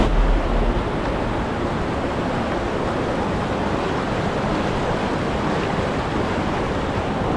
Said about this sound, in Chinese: 这个溪水，哦，温泉这样一直流下来